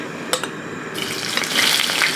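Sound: frying bitter gourd in oil

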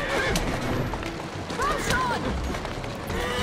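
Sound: horse neighing, from a video game

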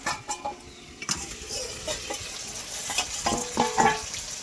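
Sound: mutton and potatoes being stirred and fried in oil

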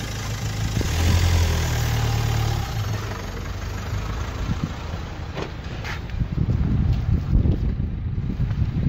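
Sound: wind blowing outdoors

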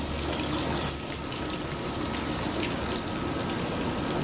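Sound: water being added to beer mash while brewing

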